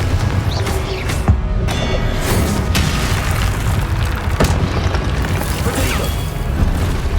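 Fiery Confringo spell blasts in Hogwarts Legacy hit as loud booming explosions, one sharp crack early and another mid-way, over a dense rumbling battle din.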